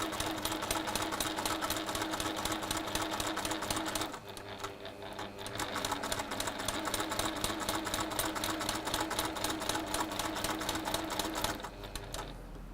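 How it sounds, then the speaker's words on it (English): A sewing machine stitches bias tape onto the corner of a quilt block, a fast continuous rattle that runs nearly unbroken for most of the stretch, with one brief slowdown early on. "that has sewn your bias tape to your corner part of your block"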